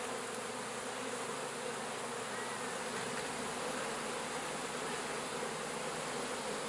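Honeybees buzzing over a hive frame of capped brood being backfilled with nectar, a steady dense drone that holds level throughout with no voices.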